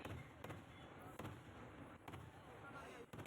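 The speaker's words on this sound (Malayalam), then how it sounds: "കുറച്ച് നേരം നമുക്ക് വെടിക്കെട്ട് കാണാമല്ലോ" Fireworks go off at a Vishu festival: four or five sharp booms at irregular intervals, faint and distant, over a low murmur of crowd noise.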